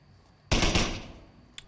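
A sudden loud burst of rapid automatic gunfire in the VR shooter Onward, a short close volley that decays quickly, followed by one faint single shot.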